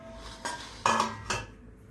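Eggplant bharta is spooned from a pan into a serving dish, three quick metallic scrapes and clinks of a utensil against cookware, close and fairly quiet, with no talk.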